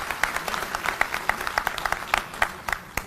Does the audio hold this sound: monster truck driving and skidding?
no